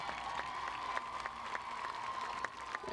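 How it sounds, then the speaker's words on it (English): A high school homecoming football crowd applauds steadily, a dense wash of clapping hands from many people in the stands, sustained and fairly loud, with scattered sharper claps standing out. "Let's give her and her court one more big round of applause"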